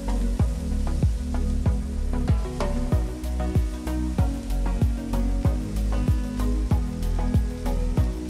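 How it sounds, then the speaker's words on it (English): Large seasoned scallops sear in a hot pan with a loud, steady sizzle, overlaid by regular sharp ticks and pops throughout, with no voices. "Good, we got a sear started on the second side."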